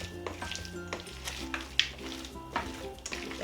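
Pecans and other chicken salad ingredients are stirred in a bowl, giving soft scraping and clinking of a spoon in a quiet, close, uneven rhythm over faint background music.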